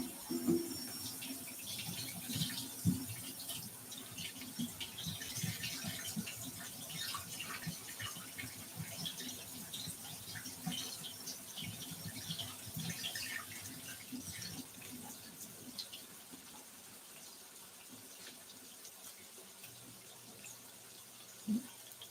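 Tap water runs steadily into a kitchen sink while mushrooms are washed under it for a hamburger steak dinner, a continuous mid-level splashing stream with small irregular spatters, tapering off near the end.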